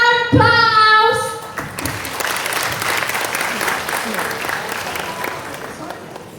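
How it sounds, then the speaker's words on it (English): Audience applause after a presentation at the Asia Bricom 2019 event in Indonesia, starting just after a brief voice and tone, then a dense crowd clapping that gradually fades. "Please give a round of applause!"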